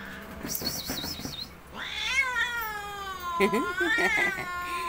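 An angry, introverted cat caterwauls and meows loudly in long drawn-out wails close by, as people talk around it.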